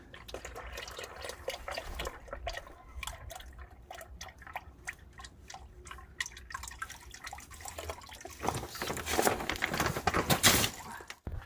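Hot engine oil drains from a Mini Countryman 1.6 turbo, a steady close trickling and dripping stream that swells louder near the end, with no talking.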